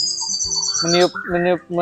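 Murai batu selendang biru (white-rumped shama, Medan or Borneo type) singing in clear, flute-like whistled phrases, a high sustained whistle followed by rich fluting notes in three rising bursts, close and loud.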